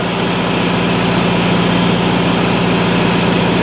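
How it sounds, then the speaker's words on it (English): An old Lindsay single stage air compressor runs steadily and loudly, a dense mechanical drone with a fast rhythmic pulsing low beat from the pumping piston, constant throughout with no pauses. "This is what they call a single stage air compressor, so this air compressor should not pump above about 110 psi."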